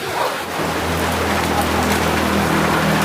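Heavy rain pouring down outdoors near an old mosque in Sidrap, a dense, steady hiss close to the microphone with a low rumble underneath and no talking.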